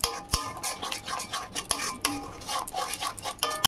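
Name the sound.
stirring spice masala with water in a pan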